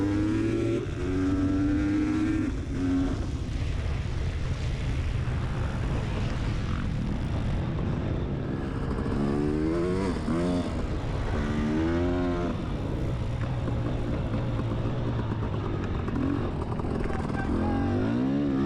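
A dirt bike engine revs hard and continuously while racing around a track's back stretch and turns, loud and close, with rising and falling pitch sweeps as the rider shifts and pins the throttle.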